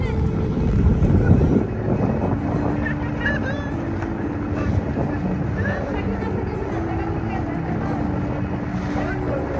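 A motorboat crosses Kaptai Lake with a continuous engine drone under heavy wind buffeting the microphone, loudest in the first two seconds before settling into a steady rush.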